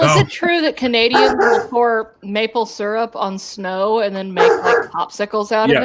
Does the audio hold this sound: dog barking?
yes